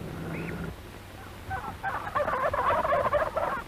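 A turkey gobbler on a farm, near a fenced turkey yard, lets out a few short, warbling gobbles that come in quick bursts and grow louder toward the end, with no talking.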